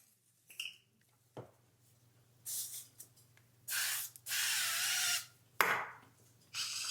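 A spray bottle misting onto food during meal prep, giving several separate hissing bursts of different lengths, the longest lasting over a second, close and fairly quiet against a low background hum.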